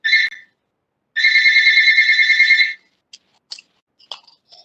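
A phone ringtone breaks into a virtual church meeting. It plays as a short electronic trill, then a longer sustained ringing burst, followed by scattered faint clicks and handling noises, with no talking.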